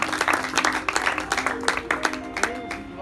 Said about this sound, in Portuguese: Aplauda Jesus, porque Ele é digno de toda a nossa adoração